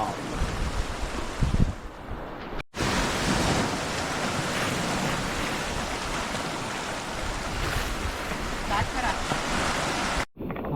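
Sea waves break and wash continuously along Kasheli beach, a broad, loud surf roar that fills the scene with only brief dropouts, with no clear talk over it.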